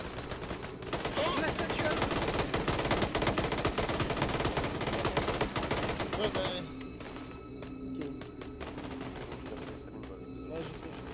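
Dense automatic and single-shot gunfire from an Arma 3 firefight fills the first six seconds, then thins to scattered distant shots under quieter background noise.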